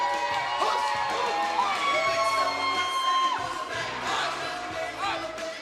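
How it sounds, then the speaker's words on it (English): Wrestling show crowd roaring and cheering wildly, with whoops and shouts rising over a dense, continuous wall of audience noise that stays loud throughout. "This audience is going berserk."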